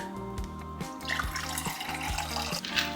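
Filtered water pours from a tap into a container, a close steady splashing trickle over a faint rhythmic background hum, with no voices.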